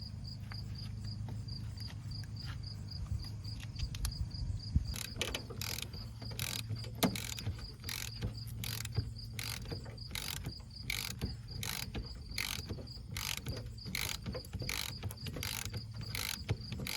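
A ratchet wrench turns a bolt on a 1980 GMC truck under restoration. A steady run of sharp, evenly spaced clicks starts partway through and continues close up over a low background hum.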